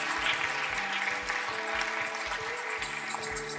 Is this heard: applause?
yes